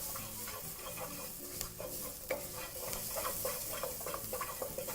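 Curry powder and turmeric get stirred into a pan with a utensil, a soft continuous sizzle broken by repeated scraping strokes and light knocks, fairly quiet and with no talking.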